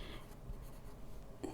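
Quiet scratchy strokes of chalk or marker on a board during a lecture, soft and steady, with a brief firmer scrape near the end and no talk over it.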